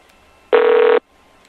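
A single short telephone ring, a bright electronic tone lasting about half a second, sounds alone against a quiet background.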